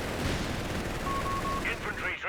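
Distant artillery and gunfire in a Company of Heroes 3 4v4 battle, a half-track firing shells, heard as faint rumbling blasts under a caster's commentary.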